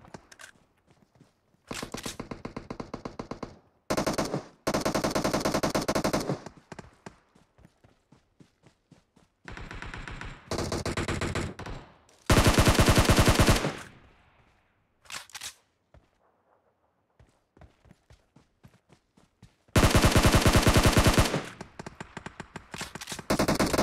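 Gunfire in the PUBG video game, with loud close bursts of automatic fire and single shots separated by short pauses and quieter footstep-like taps.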